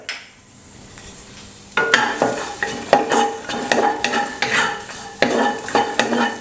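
Shallots and garlic fry over low to medium heat in a pan. After a quiet start, the frying comes in as busy sizzling and stirring, with spatula scrapes and clinks against the pan, all close and with no talking.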